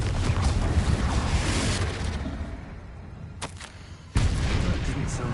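Blasts from the Confringo fire spell in the game Hogwarts Legacy: a heavy, rumbling low-end roar that fades out, then a second sharp explosion bursts in near the end, with faint game sounds in between.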